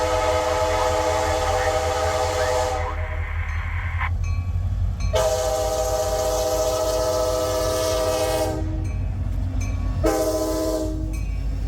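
CSX freight train led by locomotive 7024 passing the Pitts Road crossing near Wellington Fairgrounds, horn sounding in long loud blasts with brief gaps over a steady rumble of rolling cars.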